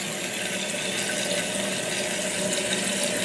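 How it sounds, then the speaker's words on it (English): Toilet tank refilling through a new Fluidmaster fill valve with the tank lid off, a steady, even hiss and rush of running water, close and continuous, with no talking. "Toilet is filling up. It's much quieter."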